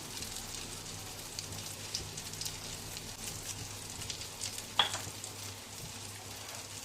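Masala egg omelette, spread thin, frying in a pan as a steady, even sizzle with soft crackling throughout, one brief sharper pop near the end, no talking.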